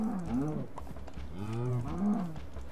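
A cow in the Minecraft video game lets out several drawn-out, low moos in quick succession, close and clear over a faint background hum.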